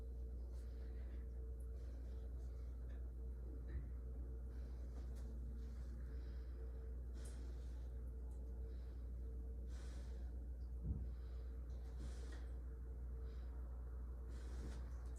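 A patient takes slow, deep breaths during a lung exam, each one a soft, faint airy rush repeating every few seconds over a quiet, low background hum.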